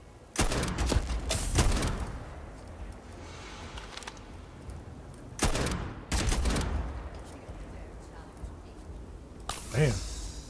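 Gunfire from a weapon in Starfield, heavy bursts of shots in two loud clusters with a booming tail, followed by a short voice-like sound near the end.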